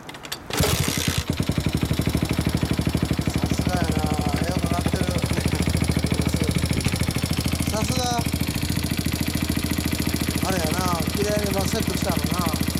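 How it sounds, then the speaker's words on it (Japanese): A 50cc Honda Ape motorcycle engine with a BMS-R exhaust starts and then idles steadily with a loud, even putter throughout, while people talk briefly over it. "エンジン音聞かせてもらえる？"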